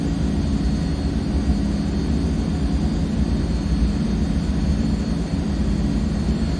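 Turboprop engines of a C160 Transall military transport idle in a flight simulator, a steady, loud droning roar with a thin high whine, unbroken and without voices for the whole stretch.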